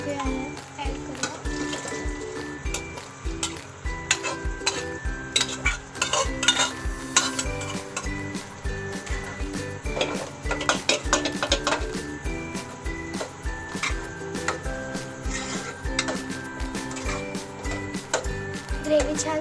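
Cooked chickpeas are stirred into an oily, simmering gravy, a spoon scraping and clinking against the pan in a steady rhythm over a low sizzle, with talking and background music throughout.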